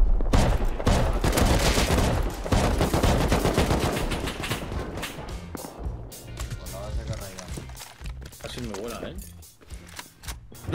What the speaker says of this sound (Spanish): Disparando fuera.